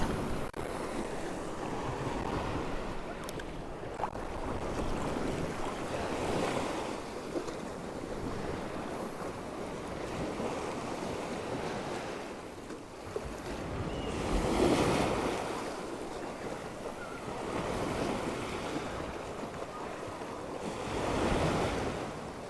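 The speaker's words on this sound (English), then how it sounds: "Really getting hammered by these waves now." Steady surf pounds a north Norfolk beach at Waxham while a person fishes in the shallows, with waves surging and breaking close by in repeated swells and wind buffeting the microphone throughout, no voices.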